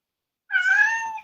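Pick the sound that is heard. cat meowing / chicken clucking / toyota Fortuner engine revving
cat meowing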